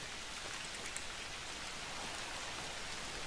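Steady rain in the hunting game The Hunter: Call of the Wild, a dense even hiss of drops falling on surfaces that continues without a break and with no voices over it.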